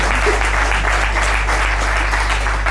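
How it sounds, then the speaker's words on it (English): Audience applause at an Indori International Business meet-up, a dense steady patter of many hands clapping throughout, close and full with a low hum beneath. "Can I have a big round of applause for that?"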